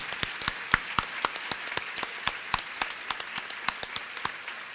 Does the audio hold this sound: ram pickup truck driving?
no